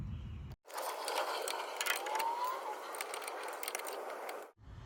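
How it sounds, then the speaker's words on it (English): A power tool backs out the lower rear shock bolt on a Ford Escape, a steady close mechanical whir running for about four seconds between brief silent gaps. "So let me continue to get that bolt out."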